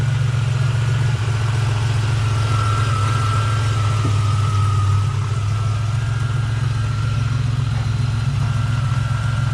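A 1987 Buick Grand National turbo engine with a new TA-49 turbo idles while burning off spilled oil, a steady low rumble with a faint whine, close and unchanging throughout.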